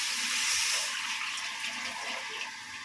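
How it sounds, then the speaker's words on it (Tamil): Tamarind water is poured into a pan of oil-sautéed ingredients for taro root kara kuzhambu, producing a steady rushing pour that fades slightly toward the end, with no talking. "இதில் புளி தண்ணியை ஊற்றிடலாம்."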